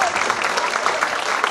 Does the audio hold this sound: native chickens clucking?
no